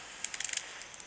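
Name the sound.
turning the head of a battery-powered garden sprayer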